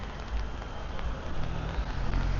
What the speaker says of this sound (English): And voila, it's raining.